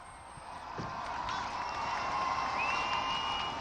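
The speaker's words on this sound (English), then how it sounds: "there's a cheer in the crowd once again" A large crowd at a presidential event cheers and applauds at a distance, a steady broad roar that swells slightly and holds, with occasional whistles rising above it.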